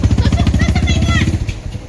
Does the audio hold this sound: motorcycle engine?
yes